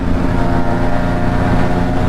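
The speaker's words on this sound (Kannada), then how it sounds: "ಈಗ ಒಂದು ದಿ ಕ್ಲಾಸಿಕ್ ಬೈಕ್ KB 100" A classic KB 100 two-stroke motorcycle engine idles and runs close by, a loud, steady buzzing drone with a rough low-pitched throb.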